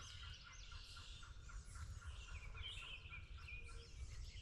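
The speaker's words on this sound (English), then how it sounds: "Just heard a gobble to my east." Faint wild turkey gobbling in the distance among chirping birds and a low outdoor rumble, no talking.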